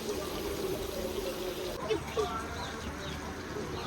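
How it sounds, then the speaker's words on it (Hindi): Water pours in a steady stream into a pot of browned chicken and spices, with a soft trickle and faint birdsong outdoors; someone speaks over the pouring. "अभी जो है ना इसमें पानी ऐड करते हैं"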